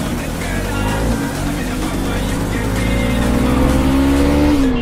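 Motorbikes race on a road, their engines droning loud and close with rising revs as they accelerate, and one engine pitch climbs steadily toward the end; a voice can be heard faintly under the engine noise.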